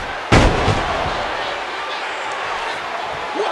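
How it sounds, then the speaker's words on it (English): A kick lands hard to the midsection in WWE 2K14 wrestling: one sharp, loud impact near the start, followed by a sustained crowd roar. "Oh, what a painful kick. Shot to the midsection."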